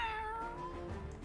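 An Owl Cat card in the Legends of Runeterra card game gives a single drawn-out meow that slides slowly downward in pitch, soft and close over a low hum, with no talking.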